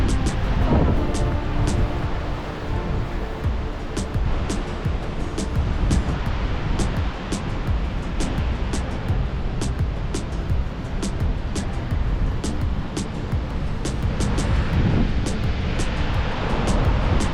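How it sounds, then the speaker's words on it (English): Strong, intense wind roars at Snoqualmie Falls, a loud continuous rushing blast buffeting the microphone with sharp repeated clicks throughout, alone without talking. "Check out the wind. It was very intense."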